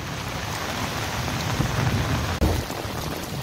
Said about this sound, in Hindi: जोरदार बारिश हो रही है।